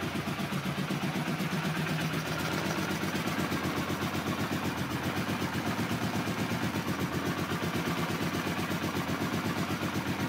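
A 1982 Honda CX500 motorcycle engine idles steadily at about 800 RPM, a close, even, low pulsing throb that holds constant for the full ten seconds with no talking.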